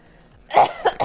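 A short, close, loud cough from a caster during a PUBG Mobile esports qualifier broadcast, a harsh burst followed by two quick smaller coughs.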